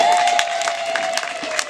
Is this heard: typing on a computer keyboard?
no